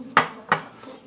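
Utensils stir a slime mixture in a bowl, giving two sharp clinks of metal against the container followed by a softer scrape, close and quiet with no talking.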